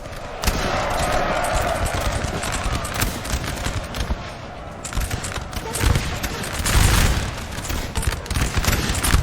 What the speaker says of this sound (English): And this battle's getting some regular volleys now.